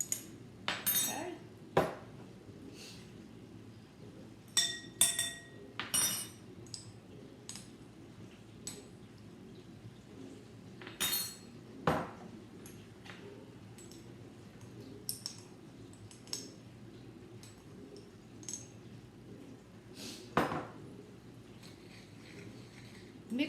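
An all-around spice blend is stirred and shaken in a container, giving intermittent light clinks, taps and rattles scattered through a quiet room without speech.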